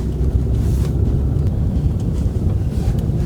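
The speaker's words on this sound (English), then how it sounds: "Kind of hear the tires, how it kind of womp womp" Tires of a 2001 BMW 325xi E46 rolling on the road, a loud, rumbling low roar with a faint rhythmic pulsing, mixed with wind and cabin noise and no talk.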